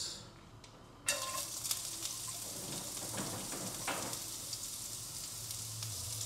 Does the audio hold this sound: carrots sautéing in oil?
yes